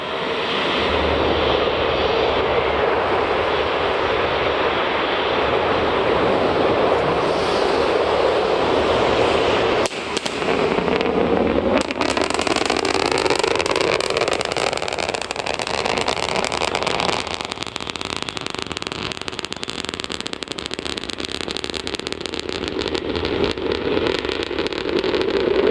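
A Starship rocket launch rumbles in from a distance, a sustained thunder-like roar with a sudden crackling shift partway through that keeps rolling on without pause.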